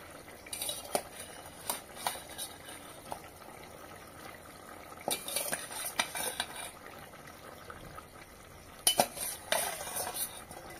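Paneer pieces tipped into a nearly finished chana paneer masala curry and stirred, with repeated metal spoon scrapes and clinks against the pan over a soft sizzle, loudest in bursts near the start, middle and end.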